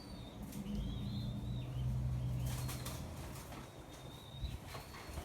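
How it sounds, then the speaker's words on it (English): Young birds flapping their wings and begging their parents for food, soft fluttering bursts mixed with faint thin calls and low coos, fairly quiet with no talking. "They like attack the parents to feed them"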